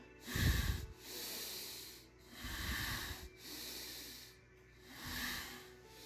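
Three slow, breathy exhales come close to the microphone, each a soft rushing hiss with a low rumble at its start, evenly spaced at a calm rhythm during a mobility routine.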